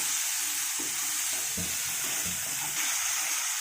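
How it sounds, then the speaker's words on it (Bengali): Spice paste for Bengali-style katla fish kalia frying in oil as a little water goes in, a steady loud hiss and sizzle with soft stirring scrapes and taps underneath. "এটা হালকা পরিমাণ আমি জল দেব যাতে মশলাটা লেগে না যায়"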